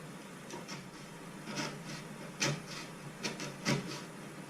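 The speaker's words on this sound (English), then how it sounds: "chisel this area out to the depth of that." A chisel cuts a shallow recess into the edge of a wooden bathroom door, giving a series of separate sharp scraping and tapping cuts at an uneven pace over a steady faint background hiss.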